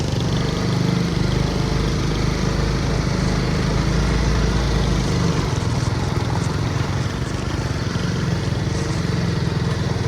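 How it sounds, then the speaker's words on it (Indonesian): Motorcycle engine labors loudly and steadily up a rough, steep uphill dirt road near a waterfall at the foot of Mount Wilis, a close buzzing drone with a chugging low throb, no talk. "Kita lihat motornya Pak Agus sempoyongan lewat di jalan seperti ini."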